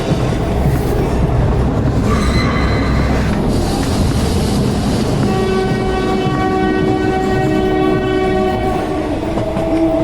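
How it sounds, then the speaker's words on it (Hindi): A train in a horror cartoon rolls along with a loud continuous rumble and rattle of wagons, and a drawn-out horn sounds twice, the second blast long and steady. "ये कैसी ट्रेन है"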